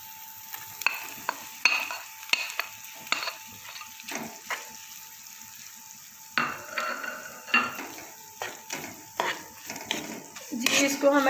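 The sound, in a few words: stirring shredded boiled chicken into garlic paste in a pan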